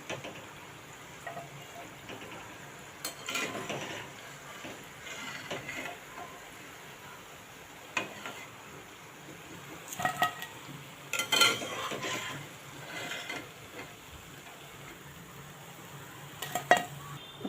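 Fried puff patties lifted out of hot oil and set into another pot to drain, with faint scattered clinks and scrapes of a utensil against the pan over a low steady sizzle.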